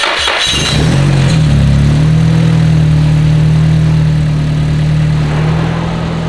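A Nissan Silvia's engine idles with a steady low hum, briefly revving at the start before settling into a loud, constant drone.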